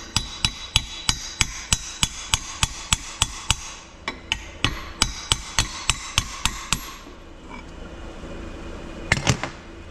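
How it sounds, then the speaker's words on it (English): A hammer knocks old bearings out of a Detroit 53 Series governor in a fast, even series of sharp metallic strikes, a short pause, then a few final hits. "So we're knocking the old bearings out and putting all new bearings in it."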